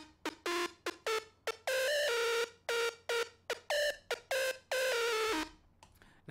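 Bright EDM synth lead with its high end cut plays a choppy, rhythmic pattern of short stabs and held notes, each carrying a buzzy tone with strong harmonics, clean and alone over a faint low hum.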